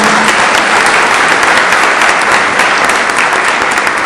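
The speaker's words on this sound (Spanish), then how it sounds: "Le damos la bienvenida y un aplauso a la maestra María del Rosario." A panel audience welcoming a teacher to the stage breaks into loud, dense, steady applause that holds at full strength throughout, with no voices over it.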